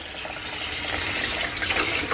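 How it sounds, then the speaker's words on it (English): Running water from a kitchen sink tap pours over raw duck skin as excess salt is rinsed off, a steady close splashing flow throughout with no talking. "So we're gonna wash this over by the sink."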